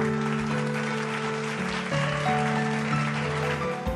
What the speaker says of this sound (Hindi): चलिए एक बार इनके लिए जोरदार तालियां हो जाए